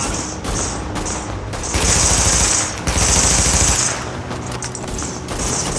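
Automatic weapon fire in The Division, a third-person shooter video game, as loud sustained bursts of rapid shots with brief pauses between them.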